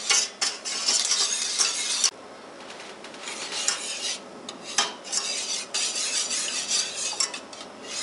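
A pot of cheese sauce for cauliflower simmers while a spoon stirs and scrapes steadily, with bright metallic clinks and a soft bubbling sizzle underneath, close and fairly loud.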